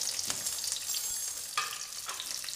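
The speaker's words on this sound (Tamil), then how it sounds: "ஏன்னா நான் வெங்காயம் தான் வதக்க போகிறோம்." Small shallots sautéing in hot oil for mutton kuzhambu, a soft bright crackling sizzle close by with a couple of brief stirring scrapes, no talking.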